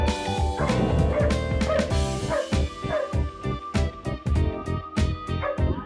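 A puppy barks and yips repeatedly in quick, uneven bursts, close by, with a few whimpering notes between barks, at a country club in Arauca, Colombia.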